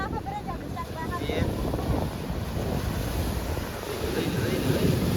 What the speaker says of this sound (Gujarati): અત્યારે દરિયો ફૂલ તોફાન